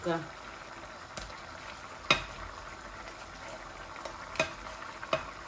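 A chitol fish head hits a hot pan and fries, giving a steady, quiet sizzle broken by a few sharp pops and clatters spaced a second or so apart.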